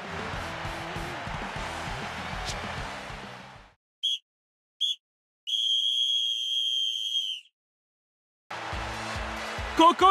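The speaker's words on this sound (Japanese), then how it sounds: "ここで試合終了のホイッスル。" Referee's full-time whistle in the Captain Tsubasa soccer video game: a few short sharp blasts followed by one long sustained whistle, set between stretches of game sound and music.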